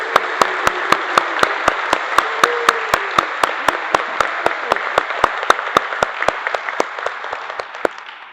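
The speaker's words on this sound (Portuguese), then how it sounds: "o Bento, com a salva de palmas." A church congregation applauding with steady, rhythmic clapping that holds an even beat and gradually fades out toward the end.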